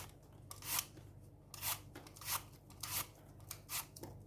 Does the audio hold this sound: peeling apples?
yes